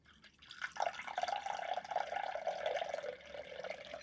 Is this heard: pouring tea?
yes